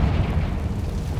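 A Confringo spell explosion in Hogwarts Legacy gives a loud, rumbling blast with a heavy low-end roar that fills the whole short moment.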